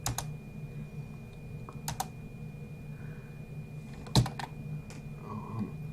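A computer keyboard clacks with sparse individual keystrokes and short key combinations, each close and crisp, and one louder strike stands out over a quiet steady room hum.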